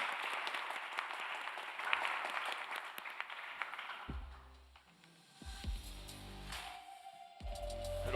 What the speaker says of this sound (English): A warm applause for the panel and for yourself.